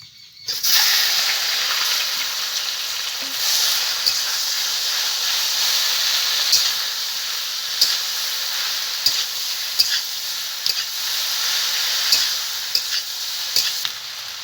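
Bitter-treated chalta fruit drops into hot oil with panch phoron, setting off a loud, steady sizzle and hiss with scattered pops and stirring scrapes, no voices.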